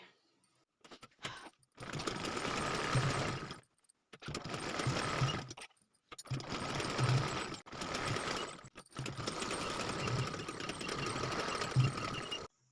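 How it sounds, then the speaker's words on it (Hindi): A sewing machine stitches a choli blouse in four long whirring runs separated by brief pauses. The mechanical chatter is steady and close, with no voices. "और काट के फिर इसे अंदर साइड करके इस तरह से सिलाई लगा लेंगे।"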